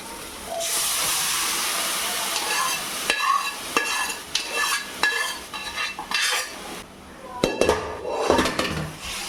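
Goat meat goes into a hot pan with a loud hissing burst of steam and sizzle, followed by repeated scraping and clanking of a metal spoon against the pan as it is sautéed.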